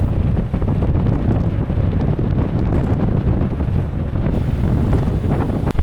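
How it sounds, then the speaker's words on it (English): Strong wind buffets the microphone on the deck of the Brittany Ferries ship Saint Malo, a loud, continuous low rumble and roar with gusty surges throughout and no voices. "this really is the side that the wind is taking its battering to"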